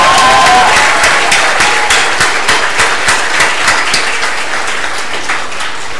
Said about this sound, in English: Let's clap loudly.